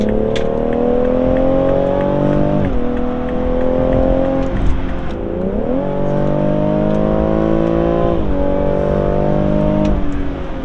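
A BMW engine revs in neutral with Active Sound Design being switched on and off, steady mid-pitched engine tones climbing and dropping through several rev cycles, close and loud with no talk.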